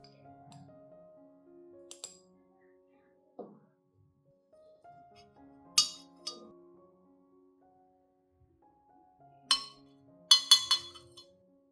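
A spoon clinks against a glass cup as charcoal powder is stirred in for an orchid fertilizer mix, with a few sharp, bright taps scattered across a quiet background.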